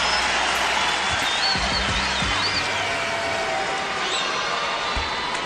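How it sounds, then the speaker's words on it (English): An arena crowd at an NBA basketball game gives Jermaine O'Neal a standing ovation with sustained, loud applause and cheering. Whistles cut through it, and a few ball bounces come from the court. "Standing ovation for Jermaine O'Neal."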